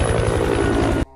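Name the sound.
helicopter flying in a film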